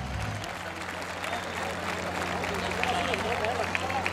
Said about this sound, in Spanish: ¿Dónde está el aplauso?